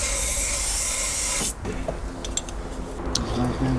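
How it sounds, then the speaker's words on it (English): Carb cleaner sprays in a loud, steady hiss over the engine of a diesel MK2 Golf GTD, cutting off abruptly after about a second and a half and leaving faint clicks and handling noise. "we're going to give that all good cleaning around there with some carb cleaner."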